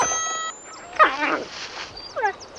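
Dogs in a film react to a high-pitched tone with a few short yelps and whimpers, clear and close, while a thin whining tone glides upward in the background.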